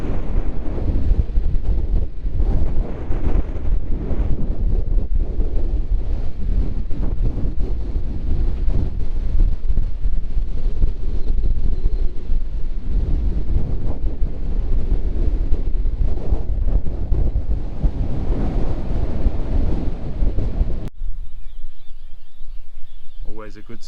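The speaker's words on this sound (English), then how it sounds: "Whoa, it's windy here." A strong gale roars across an exposed coastal point with sand blowing, buffeting the microphone in a dense, unbroken rush that drops off abruptly near the end, with no talking.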